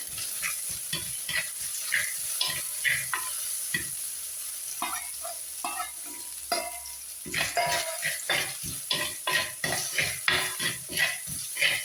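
Crushed garlic and ginger sizzling in a pan while cooking, a steady frying hiss with repeated scraping and stirring taps of a utensil against the pan throughout, no talking.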